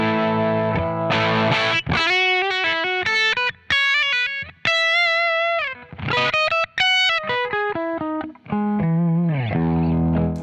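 Electric guitar played through a Benson Germanium preamp pedal gives a warm, crunchy overdriven tone, with chords and short melodic phrases, loud and close, and no voices.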